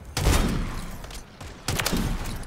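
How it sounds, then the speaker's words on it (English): Sniper rifle fire from the MORS sniper in the video game Modern Warfare 3, two loud sharp blasts about a second and a half apart, each followed by a ringing tail. "I'm just spinning around and shooting."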